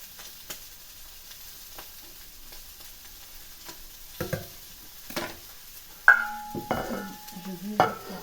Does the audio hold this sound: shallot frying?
yes